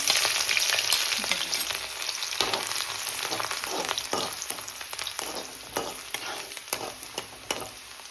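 Garlic, ginger and green chilli frying in oil, with a busy close-up crackling sizzle cut by frequent sharp pops and stirring scrapes.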